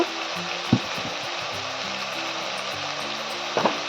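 Spices for mete chorchori, a liver curry, stirred and frying in a pan: a steady sizzle with a few sharp scraping clatters of the spoon against the pan.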